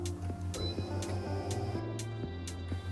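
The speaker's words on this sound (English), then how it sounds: "it's the world's only flatbed laminator that operates with electric motors and not an air compressor" Kala flatbed laminator driven by electric motors instead of an air compressor, giving a steady low mechanical hum with regular soft ticks and faint clicks, fairly close and without speech.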